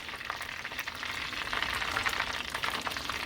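Beer-battered fish fries in hot oil, a dense, continuous bubbling sizzle that stays loud and even throughout without any talking.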